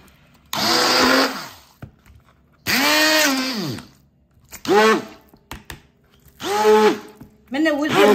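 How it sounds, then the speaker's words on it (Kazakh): A kitchen blender purees steamed pumpkin and carrot in five separate whirring bursts, each rising and dropping in pitch as the motor loads, with short quiet gaps between them. "Қазір блендермен езіп аламыз."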